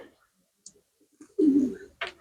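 Wood pigeon squabs being fed give a few short soft calls and a brief louder burst of fluttering and squeaking, scattered across a quiet background.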